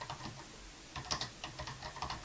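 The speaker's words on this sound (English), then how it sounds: "When you go there, you will go ahead and type in the place that you want to go." Soft, quick keystrokes on a computer keyboard entering a place name, irregular bursts of clicks close by and fairly quiet.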